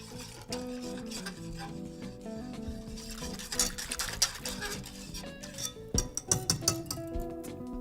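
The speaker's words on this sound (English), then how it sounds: "I'm gonna whisk this together." A whisk clatters and stirs balsamic vinegar and wild honey together in a pan or bowl, a busy run of light scraping and tapping, close and moderately loud, with no voices.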